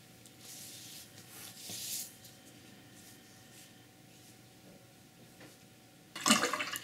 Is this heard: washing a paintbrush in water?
yes